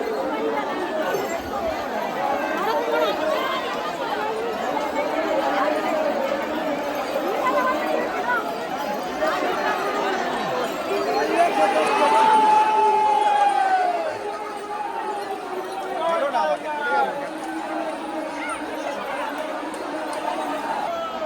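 Dense crowd of pilgrims packed together at the Tarakeswar Yatra during the second Monday of Shravan, with rain falling: steady overlapping chatter from many voices, fairly close and continuous, swelling briefly in the middle.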